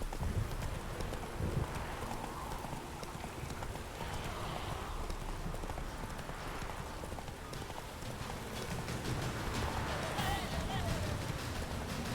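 Roach the horse gallops in the Witcher 3 video game, a steady rapid clip-clop of hooves running throughout, close and prominent, with a brief voice and faint ambient noise underneath.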